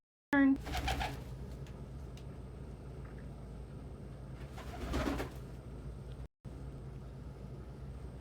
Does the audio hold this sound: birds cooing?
yes